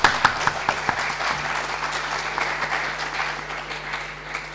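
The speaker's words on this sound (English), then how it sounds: "So can we have another round of applause" An audience at a social media conference event claps, opening with a few sharp separate claps that quickly swell into steady, sustained applause.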